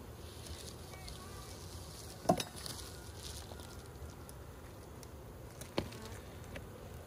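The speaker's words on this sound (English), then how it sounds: "We have so many bees up there." Honeybees from a newly hived package in an Alaska apiary hum faintly and steadily, with a couple of brief nearby thumps and knocks, no talking.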